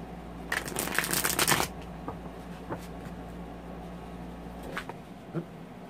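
A deck of Santa Muerte tarot cards is shuffled close by, a brisk riffling flutter lasting about a second, then scattered soft taps and card handling in a quiet room.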